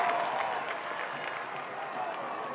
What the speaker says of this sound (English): That'll lead to a nice applause from the home crowd.